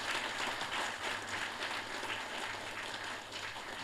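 Audience clapping at a Tamil public gathering, a steady dense wash of applause from a crowd, moderately loud and continuous throughout with no talking.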